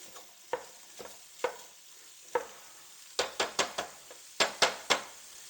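A meat chopper breaks up browning meat in a pan: a soft sizzle runs beneath sharp, close scraping strikes, scattered at first and then coming in quick bunches.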